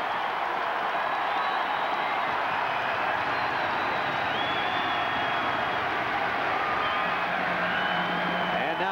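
A college basketball arena crowd at a Duke versus Wake Forest game makes a dense, steady roar of cheering and whooping that holds loud throughout, under faint commentary.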